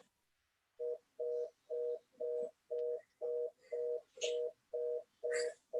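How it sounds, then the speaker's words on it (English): A telephone line sounds a steady series of about ten evenly spaced tone pulses after a moment of quiet, in a public meeting room, with faint background noise between beeps. "No, it's a phone."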